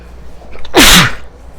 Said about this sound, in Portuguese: Mais um espirro interrompa a gravação.